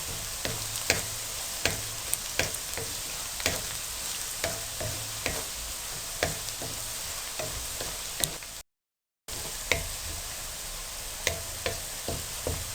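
Onions fry in hot oil with bay leaf and cumin, giving a steady, close sizzle. Sharp spoon or ladle scrapes against the pan break through it at a fairly regular rhythm, with a brief silent break partway through.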